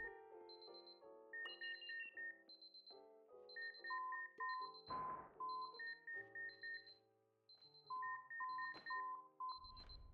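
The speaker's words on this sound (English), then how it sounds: "when you hear the beeping long enough, it sounds like the inside of a McDonald's" Electronic beeping in the Superliminal video game, a busy sequence of short melodic tones and chimes overlapping in rhythmic patterns, with two brief noisy bursts partway through; no talking.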